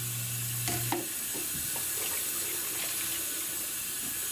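Water running and splashing in a basin as it is emptied and rinsed during a bed bath, a steady wash of flow with a few faint clinks near the start.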